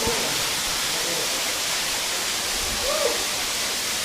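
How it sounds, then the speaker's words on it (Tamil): Valli Chunai waterfall pouring and flowing continuously, a dense, even rush of water close by with no pauses, briefly touched by a faint voice-like sound. "இந்த தண்ணி அப்படியே போயிட்டு இருக்கு."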